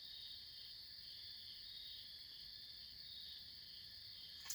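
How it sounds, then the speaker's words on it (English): Crickets chirping at night in Appalachian woods, a faint, continuous high trilling drone that holds steady throughout with no voices. "I wonder if y'all can hear the crickets and stuff."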